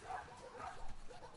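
A dog barking and yipping in the video game The Last of Us Part II, a few short yelps close by over low game ambience.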